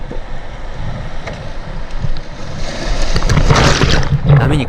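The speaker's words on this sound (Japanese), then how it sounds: "波に体をさらわれました。" Rough sea waves surge and break against a rocky shore, loud and close with constant wash and wind buffeting the microphone, swelling into a heavier crash near the end.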